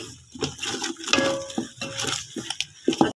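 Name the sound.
spoon stirring almond walnut milk sweet mixture in pan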